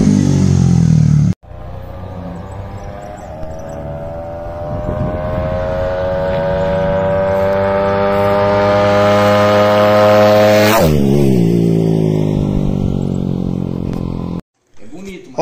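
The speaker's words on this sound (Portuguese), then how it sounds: "a motinha do Pina vindo, ó. Rapaz, vem que vem forte" A small Honda Titan 150 fuel-injected motorcycle with a 190 kit running on ethanol revs and climbs in pitch as it draws near, a voice talking over the steady whine until it cuts off abruptly.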